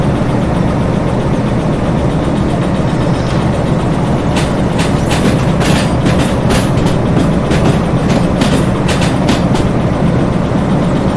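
A train rolls on rails in Derail Valley, giving a loud, steady low rumble of engine and wheels, with a run of sharp clacking bursts from wheels crossing rail joints in the middle.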